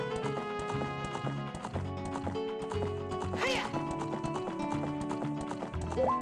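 A horse gallops in The Legend of Zelda: Ocarina of Time, its hooves beating a rapid, steady clip-clop under continuous game music, with a short neigh-like cry midway.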